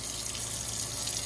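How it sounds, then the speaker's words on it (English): Water is poured in a thin, steady stream onto raw bacon slices in a pan, a faint, continuous trickle with no voices. "So we got a little bit of water on each slice."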